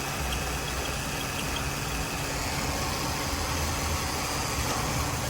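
Used car engine idling rough, a steady close-up rumble with a continuous low drone and broadband mechanical hiss, no talking.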